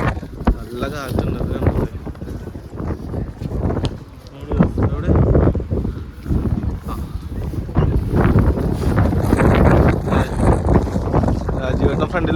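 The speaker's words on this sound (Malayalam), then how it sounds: "നല്ല കാറ്റുണ്ട്." Strong wind gusts outdoors in Moscow, buffeting the microphone with loud rumbling bursts while people talk throughout.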